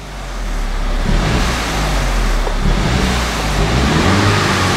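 Mini Cooper S engine, just restarted after repair work and suffering voltage problems, revving in a garage; a steady, loud, broadband engine roar runs throughout with slight swells in pitch and no talking.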